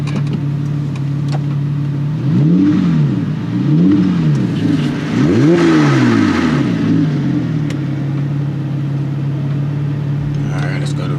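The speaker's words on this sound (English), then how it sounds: "Let's do a little rev." A Porsche 911 997.1 Carrera S with an Fi exhaust, idling close up and then blipped in three quick rising-and-falling revs before settling back to a steady idle.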